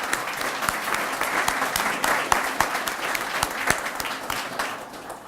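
An audience applauds at a university naming ceremony honoring a donor, a dense, sustained clapping from a large crowd with distinct individual claps popping through, moderately loud throughout.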